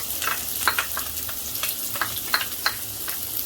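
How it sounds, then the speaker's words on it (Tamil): Cinnamon, bay leaf and cloves frying in hot oil in a clay pot give a steady close sizzle, with sharp crackles and pops scattered across it and no voices. "காஞ்ச உடனே நம்ம எடுத்து வச்சுருக்க இந்த பட்டை, பிரிஞ்சி இலை, கிராம்பு எல்லாம் போட்டுடலாம்"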